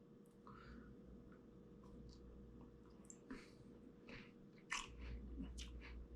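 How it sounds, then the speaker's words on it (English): Crunchy shortbread cookie from a 2010 Humanitarian Daily Ration being bitten and chewed close up, with faint crisp crunches and a sharper bite near the end, quiet throughout. "Very crunchy."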